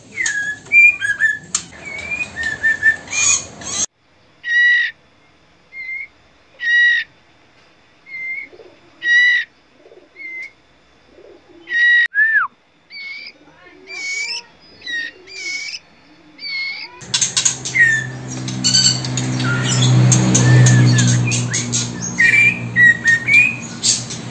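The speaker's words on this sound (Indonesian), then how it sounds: "perbedaan suara trotol jantan dan betina" Male and female trotol birds calling: a rapid run of chirps, then a long series of evenly spaced, repeated whistled notes, and finally dense overlapping chirping against a louder noisy background, close and clear.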